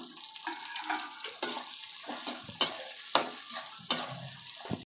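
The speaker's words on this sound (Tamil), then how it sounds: "இப்போ தக்காளி வந்து நல்லா வதங்கட்டும்" Tomatoes and grated dried coconut are stirred as they sauté in a pan for a Chettinad garlic pepper kuzhambu, with a soft continuous sizzle broken by several sharp scrapes and knocks of the spoon.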